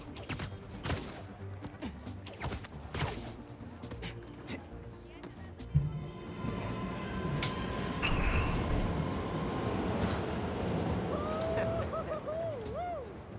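A subway train rolls into a station in the video game Spider-Man 2, building from scattered clatter to a heavy, rumbling roar, with high wheel squeals wavering near the end.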